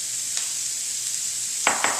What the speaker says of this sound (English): We need to deglaze this pan.